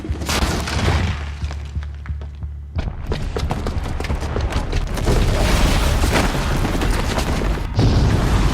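A bomb goes off in Horizon Zero Dawn, a sudden loud boom followed by a dense rolling rumble of crashing debris and blasts that stays heavy and continuous.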